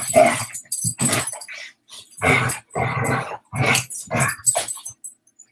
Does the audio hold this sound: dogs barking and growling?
yes